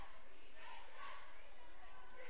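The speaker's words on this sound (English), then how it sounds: "Dellinger gets a round of applause from the Mountain View faithful who made the trip here" Mountain View supporters at a state consolation high school basketball game against Lander Valley, applauding a player leaving the court: a faint, distant, continuous crowd noise of scattered clapping and murmuring, with no distinct voices.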